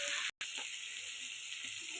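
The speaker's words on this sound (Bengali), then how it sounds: "সব ভেজে নিব বন্ধুরা" Peas, beans and other vegetables sizzle steadily in a pan, a continuous bright frying hiss broken by one brief dropout.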